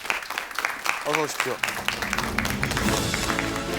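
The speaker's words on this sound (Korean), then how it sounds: "이지우 씨를 박수로 환영해 주기 바랍니다" A studio audience on a KBS talk show claps to welcome a guest, with the brief clapping mixed under a host's spoken greeting and followed by a swelling music bed.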